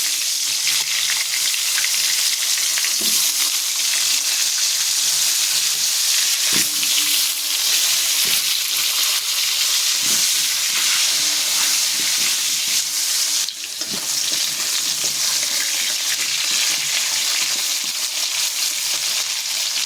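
Nigella seeds and chunks of potato fry in hot oil, giving a loud, steady sizzle that runs unbroken for about twenty seconds with a few faint scrapes and no talk.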